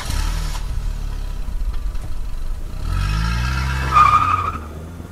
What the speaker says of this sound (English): I drove away, tires screeching on the gravel road